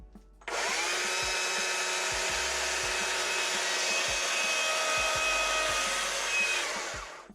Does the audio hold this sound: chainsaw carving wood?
yes